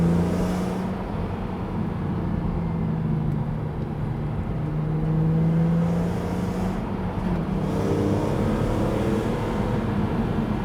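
A BMW Z4 M Roadster with the S54 straight-six engine revving: a loud, steady engine drone that climbs, hangs and then drops slowly back toward idle, continuous throughout with no voices.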